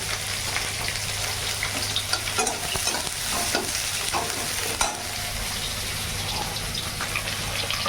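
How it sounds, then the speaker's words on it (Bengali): Fish fries in a pan with a loud, continuous close sizzle and crackle, broken by occasional scrapes and knocks of a spatula; no one speaks. "আর এই মাছটা ভাজা হয়ে গেছে এবার নামিয়ে নেব"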